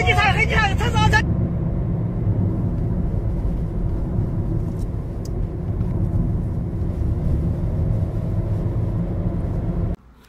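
A car driving along a road gives a steady, loud rumble of engine and tyre noise throughout, with a voice speaking briefly at the start before the rumble cuts off abruptly at the end.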